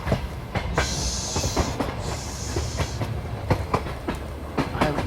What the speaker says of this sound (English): On a train.